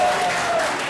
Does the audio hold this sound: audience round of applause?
yes